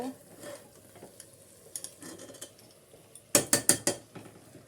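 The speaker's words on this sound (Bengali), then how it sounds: "এইবার চাল আর মাংসটা দিয়ে আমরা একটুখানি নেড়ে নেব" Rice and chicken for polao sit over a full flame with a faint background hiss, then a spoon scrapes through the pot in a quick burst of four or five sharp strokes near the end.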